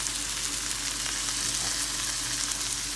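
A steak sizzles as it cooks in a pan alongside vegetables, a dense, even crackling hiss that stays steady and fairly loud from start to finish with no talking.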